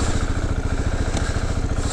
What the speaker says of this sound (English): very quiet and stock